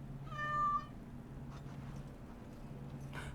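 A cat meows once, clear and close, in the fantasy game Dragon Age: Origins Awakening, followed by quiet background ambience and faint game sounds.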